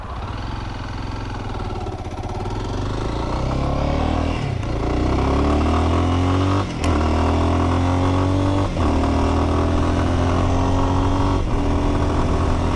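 A Lifan 200cc enduro motorcycle with a 5-speed transmission, ridden close by: a steady engine drone that climbs in pitch through the gears, with brief dips at shifts around the middle and later on, loud and continuous with no talking.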